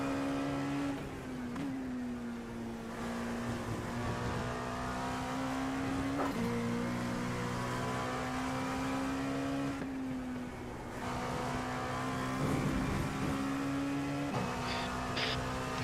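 The race car engine in a Le Mans sim racing video game holds a steady high drone with brief dips during gear changes, sustained and fairly quiet, with no talking.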